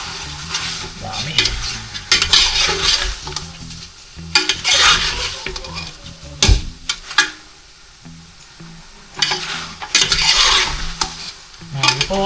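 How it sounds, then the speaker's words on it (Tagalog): Two kilos of pork, liempo and buto-buto, sautéed in a pot, loud close sizzling broken by repeated metal scraping and clanking of a ladle stirring the meat, no voices. "Ito kasing ginigisa yung karne"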